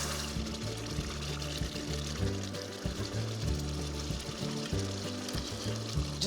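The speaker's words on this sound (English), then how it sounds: "I'm now ready to pour my sugar syrup into the roux. Both are very hot." Very hot sugar syrup is poured into a hot roux in a kitchen, making a steady, fairly close sizzle and bubbling under a low hum that carries on for several seconds.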